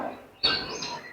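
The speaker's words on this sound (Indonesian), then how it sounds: "Terdengar suara-suara burung." Birds chirp in a short burst of bright, close tweets that start abruptly midway and continue to the end, without any talking.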